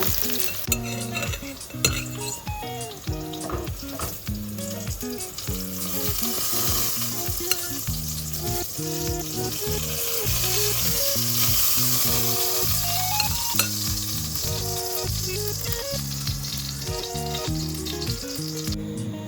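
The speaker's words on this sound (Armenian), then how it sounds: "Դդմիկն եմ տապակում այսպես բուսայուղի մեջ։" Thinly sliced zucchini frying in vegetable oil crackles and hisses steadily for a long stretch, with faint utensil clinks, all under continuous background music.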